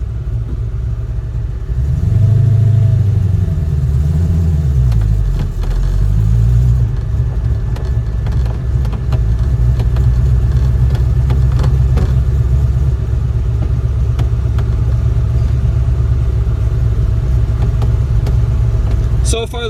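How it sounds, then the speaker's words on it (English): 1966 Ford GT40 driving on the road, its engine rumbling loud and close with revving swells early on, then a steady throaty drone as it cruises. "we will take this thing out on the road for a spin"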